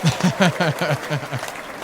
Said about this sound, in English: It's a cheesy canned applause, but it's from the heart.